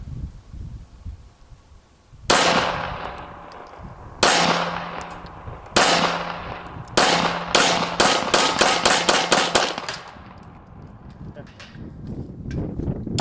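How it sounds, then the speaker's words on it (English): Gunshots ring against steel targets of a home-made bullet trap, starting as a few spaced shots with sharp metallic clangs and then becoming a rapid string of hits, loud and close. "Let's go for a little accuracy. Let's shoot the diamond on the top left."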